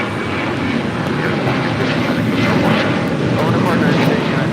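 Airliner taking off from runway 25 right at LAX, a loud continuous engine roar with broadband rushing noise, steady throughout.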